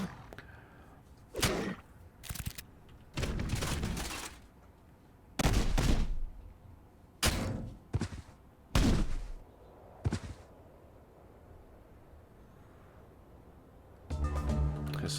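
Cannon blasts and gunfire in the Age of Wonders 4 video game, a series of loud, sharp booming shots spaced irregularly, some in quick pairs, followed by a denser burst at the end.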